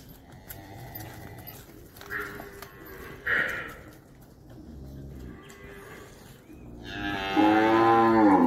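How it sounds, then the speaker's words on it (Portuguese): Girolando cows, including a freshly calved crossbred cow, low at a farm sale lot near Ribeirão Preto, São Paulo; a few drawn-out moos rise over general livestock noise, ending in a loud, close bellow. "Vaca meio-sangue recém-parida"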